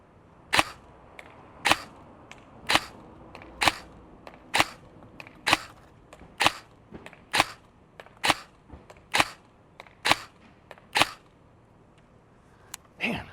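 A G&G SSG-1 airsoft AEG rifle fires BBs at targets about 100 feet away outdoors, giving about fifteen sharp, snappy shots at a fairly steady pace, each a crisp crack with a short tail, with no talking.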